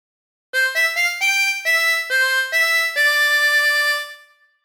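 A phrase of When the Saints Go Marching In is played on a chromatic harmonica as a clear melody of sustained reedy notes, each a few beats long, heard alone and close.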